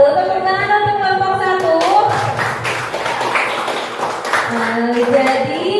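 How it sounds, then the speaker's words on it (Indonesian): A classroom audience claps for a student group that just finished presenting. The clapping swells in the middle of the clip under continuous voices, with people talking throughout. "Tepuk tangan untuk kelompok"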